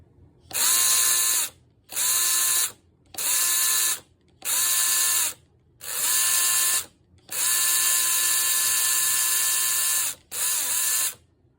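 A small electric motor on a scratch-built model Indy car whirs in repeated high-pitched bursts of a second or two, each stopping abruptly, with one longer run near the end.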